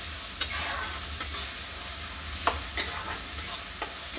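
Onions fry in a pan while being stirred, a constant close sizzle punctuated by a few sharp spoon scrapes and clinks at irregular intervals.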